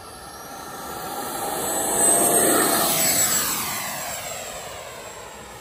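An FMS 80mm F-86 RC model jet takes off, its ducted fan rising into a loud, high whine that swells as it passes close by and then fades as it climbs away.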